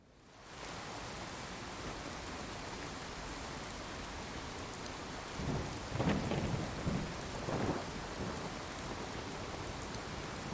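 Steady rain falls with rolling thunder in the game Fallout 4. A continuous wash of rain carries a couple of low thunder rumbles midway, with no talk over it.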